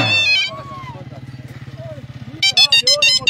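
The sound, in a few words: motorcycle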